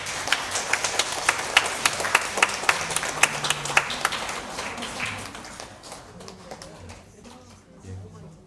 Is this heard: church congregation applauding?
yes